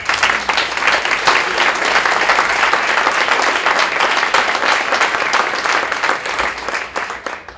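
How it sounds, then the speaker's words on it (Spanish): Loud, sustained applause from an audience at an award ceremony for social and political commitment, many hands clapping densely and continuously close by, tapering slightly near the end. "Un aplauso."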